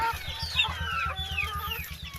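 Backyard chickens being fed cluck in quick, regular bursts close by, a rapid repeating low clucking with some higher chirps from other birds over it.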